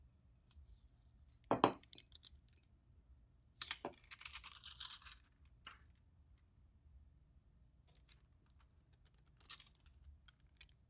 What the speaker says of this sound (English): Let's go ahead and peel up our tape and our foil.